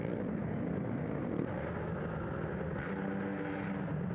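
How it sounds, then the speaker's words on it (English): Steady roar of dirt bike engines revving continuously during a GNCC off-road race, loud and fairly close, with engine pitch rising and falling slightly and no voices. "you hear them revving the engines, warning the lappers to get out of the way"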